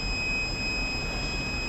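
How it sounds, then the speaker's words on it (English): An Arduino-driven buzzer in a signboard detection system gives a steady, continuous high-pitched electronic tone, held at an even level throughout over a broad background hiss. "so it is giving the beep."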